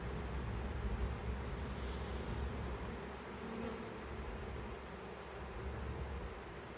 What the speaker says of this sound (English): This is the second swarm that has landed in this tree.